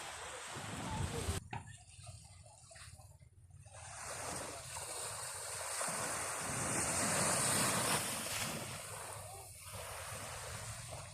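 Seaside surf washing in steadily with wind buffeting the microphone, a broad continuous wash that swells and eases, with voices talking faintly in the background.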